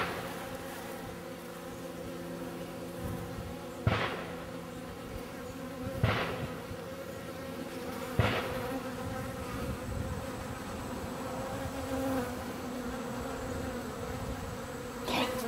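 Bees buzz close by on hive comb, a continuous layered hum with a few louder swells as individual insects pass near, no talking.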